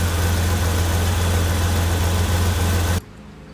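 A 2004 Jeep engine idles loudly with a deep rumbling drone from a loose exhaust for about three seconds, then cuts off abruptly to near silence.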